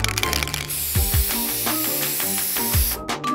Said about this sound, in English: Spraying down the bottle.